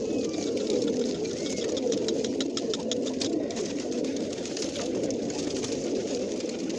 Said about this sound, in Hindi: आवाज़ चेक कर लें, मुझे भी बहुत प्यारे लगते हैं कबूतर।